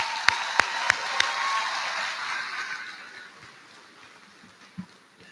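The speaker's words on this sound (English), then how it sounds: "Let's give them a round of applause." A graduation audience at a high school ceremony applauds: a dense wash of clapping with a few sharp near claps, which fades away over a few seconds.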